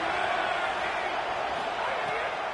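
A steady roar from a stadium crowd fills an NCAA college football video game, a dense and continuous wash of cheering heard close with no pauses.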